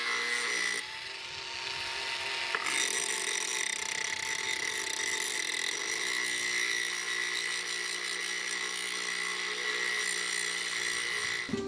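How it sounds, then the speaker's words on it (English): A power tool grinding back a boat surface in a boat yard, a steady loud abrasive whir with a constant high tone that runs unbroken throughout, close by. "I'm going to grind this all back."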